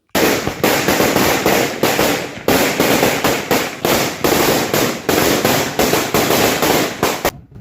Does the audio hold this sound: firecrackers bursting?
yes